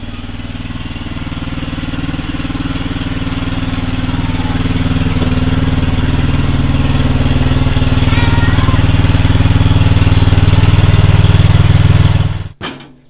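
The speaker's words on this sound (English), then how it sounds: "So here's the mower." A Cub Cadet LT42 riding lawn mower engine runs steadily at a loud, constant drone inside a shed during heavy rain, then cuts off abruptly at the end.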